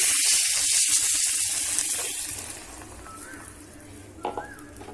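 Water pours into a pan of mango curry cooking with mango pieces, a bright splashing rush at the start that fades into a low simmering sizzle, with a brief clink near the end.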